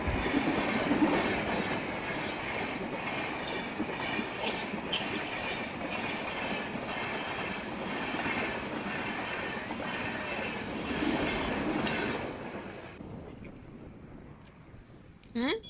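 A train rumbles past a railway crossing near Kamshet, Pune, steadily with rhythmic clatter of wheels on rails, loud and close, then fades to quiet near the end.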